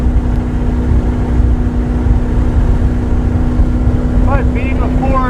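A 1965 Ford GT40 Mk V race car engine drones steadily at close range while driving, a loud continuous low rumble with a faint voice-like squeal near the end.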